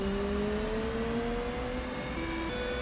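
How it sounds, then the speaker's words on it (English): An F/A-18C Lot 20 Hornet jet engine spooling up in the DCS flight simulator, a steady whine with tones gradually rising over a constant roaring hum, loud and continuous without talk. "we go engine crank left, and we're just watching there for our engine to start spooling up"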